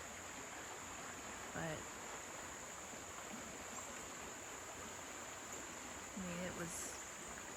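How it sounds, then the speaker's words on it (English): A river after Hurricane Helene in South Carolina, running high with a dense, constant broadband rush of flowing water, with a voice briefly speaking over it. "Here's the river, almost back to normal, still running high."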